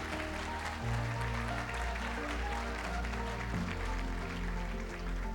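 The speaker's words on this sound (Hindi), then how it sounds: "आपके डॉक्टर अंतिम के लिए ताली बजाए" Audience applause at a motivational talk for medical entrance exam aspirants, a dense steady clapping that fills the whole stretch at moderate distance, with a low musical drone underneath.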